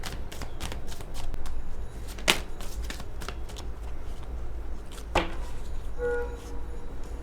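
Tarot cards being shuffled by hand in repeated quick riffles and crisp flicks, with two sharper card snaps and a soft low rumble beneath, with nobody speaking.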